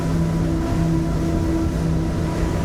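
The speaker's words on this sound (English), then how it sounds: "This just feels like the boat is kind of idling along." Technohull Alpha 50 boat powered by quad 500R outboard engines cruising at 32 knots and 3,800 RPM, a steady droning engine hum with constant low rumble and wind, heard alone.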